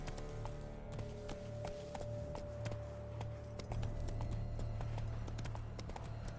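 Geralt's horse Roach in The Witcher 3: Blood and Wine gallops with rhythmic, steady hoofbeats, accompanied by jangling tack and a low sustained tonal hum beneath, with no speech.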